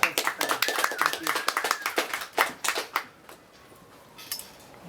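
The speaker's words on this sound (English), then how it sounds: "let's give him a applause" Bookstore audience clapping for a visiting author, a small crowd's distinct individual claps in a loose rhythm that thin out and stop, followed by quiet room noise.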